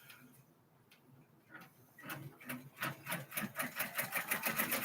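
An embroidery sewing machine stitches out black appliqué thread for a house design, a quiet hum for the first two seconds, then a loud, rapid, steady rhythmic needle clatter with no talk.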